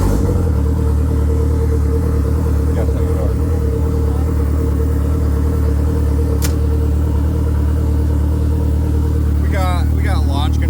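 A car fitted with a LaRue Pro R turbo kit and stand-alone ECU starts up and settles into a loud, steady idle, with a voice talking over the engine near the end.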